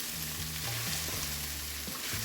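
Ground beef and carrot-flecked coleslaw fry together in a single pan, a soft continuous sizzle with a few stirring scrapes, heard up close and fairly quiet without speech.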